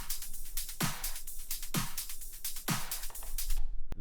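Progressive house drums play together: hats, snaps, snares and claps in a tight loop, with bright crisp hits roughly every second and punchy low thumps, ending abruptly.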